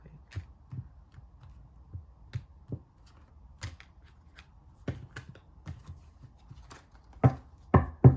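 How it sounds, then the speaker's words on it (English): A tarot deck is cut and shuffled, making soft, sparse card taps and riffles that build into a few louder slaps near the end, close and quiet otherwise. "let's cut the deck real"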